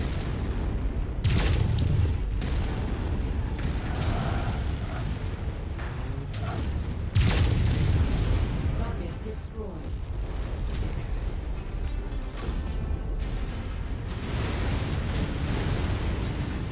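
Mech weapons in MechWarrior 5 fire at a flying enemy: a dense run of heavy booms and blasts overlapping one another for the whole stretch, loud and continuous, with a voice talking over the top.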